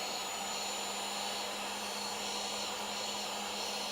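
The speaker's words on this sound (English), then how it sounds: "add a little bit of heat to the back side of the screen, not the front" A heat gun blows on the back of an iPhone 13 screen, producing a steady, even whirring hiss with a constant hum that does not change for the whole stretch.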